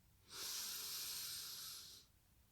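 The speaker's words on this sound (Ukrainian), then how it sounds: "Вдихни повітря через ніс." A single long, close breath drawn in through the nose makes a loud, airy hiss that lasts about two seconds, then stops in quiet.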